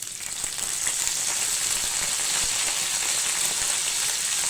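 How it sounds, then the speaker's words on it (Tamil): Garlic and curry leaves fry in hot coconut oil in a pan, giving a steady, fairly loud crackling sizzle that runs unbroken from start to finish with no voices. "இதில் வந்து கொஞ்சமாக பூண்டு கருவேப்பிலை சேர்த்துக்கலாம்"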